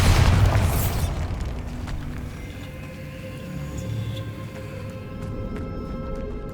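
Bombarda explosion spell in the video game Hogwarts Legacy, set in a tomb: one loud, close blast at the start that fades into a long rumbling decay with scattered debris clatter.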